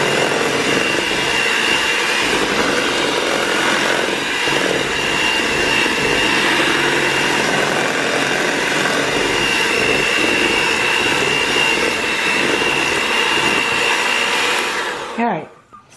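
Electric mixer whirring steadily in strawberries and cream cake batter, a loud continuous motorized drone with no break, cutting off abruptly at the very end.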